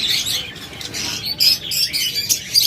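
Pet birds such as lovebirds and budgerigars chatter and chirp continuously at a bird shop, a dense high twittering flock with sharper squawks rising now and then, fairly close.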